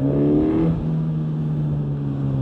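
Suzuki GSX-S1000 motorcycle with ride-by-wire throttle on the road: a loud, close, steady engine drone with a brief rise in pitch at first, then settling into a sustained even note with no talking.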